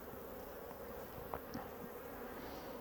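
Honey bees buzz inside an open hive during an inspection, a soft continuous drone with a few brief louder passes close by.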